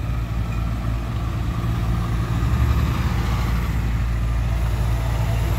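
A big truck's engine idles close by, a steady deep diesel rumble holding even and loud throughout with no talk.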